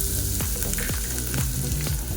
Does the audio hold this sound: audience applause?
no